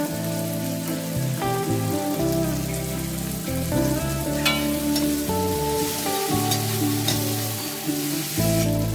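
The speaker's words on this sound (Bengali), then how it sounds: "সবকিছু ভালো করে আমি ভাজতে হবে" Cabbage and chopped chillies fry in a pan with a steady, close sizzle running throughout, while a layered tonal backing plays beneath it.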